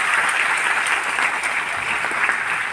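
An audience at a poetry gathering applauds for poet Deepshikha Rawal, a dense steady round of clapping held at an even level throughout.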